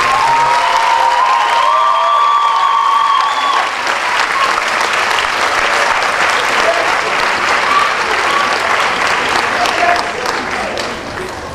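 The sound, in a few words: graduation crowd applause for families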